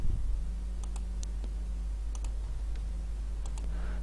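Sharp mouse clicks during work in QuickField simulation software, a handful of crisp, brief ticks spread irregularly over a steady low hum, close and fairly quiet.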